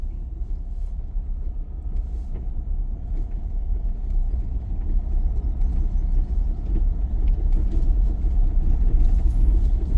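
Car moving along a road during a beginner driving lesson, a steady low engine and road rumble that builds gradually and stays continuous, with no voices over it.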